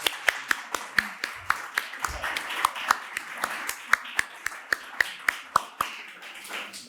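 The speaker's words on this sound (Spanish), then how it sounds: "Así que un aplauso para vosotros." Crisp hand claps land in a steady, evenly spaced rhythm, close and distinct, with a faint background murmur between them.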